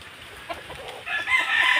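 A rooster crows in one drawn-out call that swells up partway through, following a short stretch of faint background noise.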